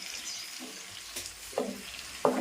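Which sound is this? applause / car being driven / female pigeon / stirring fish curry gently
stirring fish curry gently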